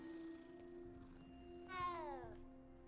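Cat in Hogwarts Legacy gives a single odd, rising-and-falling meow near the end, heard over a steady hum of background game music.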